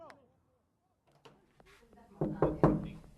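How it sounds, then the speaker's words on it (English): Knocking on a door, a few sharp raps building to louder, closer thuds toward the end, after a quiet stretch with faint voices. "I'm knocking the door so that they can open"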